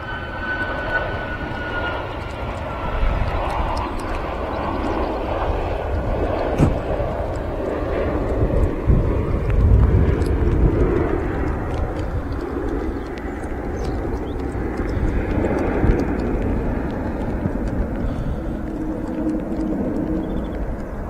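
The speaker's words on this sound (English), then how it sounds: "a great view there from the Turkish Airlines A330. A bit of a bump on the touchdown there" Turkish Airlines Airbus A330 landing at Manchester Airport, a broad roar of jet engines that swells and recedes over about twenty seconds, heard at a distance with people talking over it.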